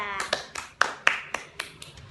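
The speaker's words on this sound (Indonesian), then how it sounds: "Beri aplaus kepada kelompok 3" A classroom gives a short, sparse round of applause for a student group: scattered individual claps in an irregular rhythm, close and moderately loud, fading out after about two seconds.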